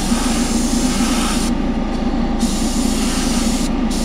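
An airbrush sprays blue paint over a pearl base coat on a baitcaster fishing reel, giving a steady, unbroken hiss above a low droning hum that runs through the whole stretch. No one speaks.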